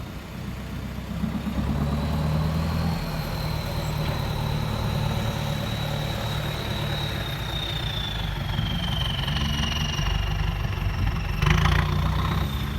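The large diesel engine of an Isuzu Robocop 210-horsepower truck idles and rumbles steadily close by, its low exhaust throb constant throughout, with a faint high whine drifting overhead.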